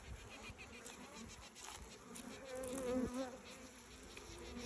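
Honeybees buzz densely around a hive while a queen pipes, a faint warbling tone that rises briefly out of the insect hum partway through.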